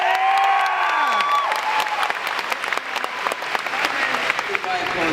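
A large crowd at the Comic-Con 2014 Game of Thrones panel breaks into loud applause. The clapping is mixed with cheering and a few whistles and fills the hall.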